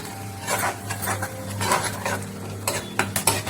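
Onions and garlic frying in oil for a broad bean garlic fry, a soft sizzle under repeated scraping and clinking of a metal spoon stirring the pan, no voices.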